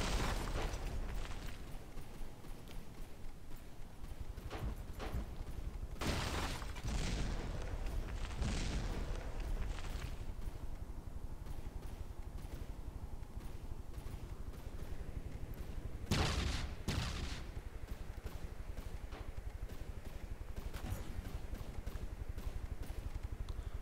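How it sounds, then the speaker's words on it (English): Bombs dropping onto enemies in the King of the Hill championship game mode, giving repeated booming explosions and gunfire-like bursts that swell in several loud waves over a steady rumbling battle din, with no talking. "Looks like the bombs are well tuned to drop right on the enemy"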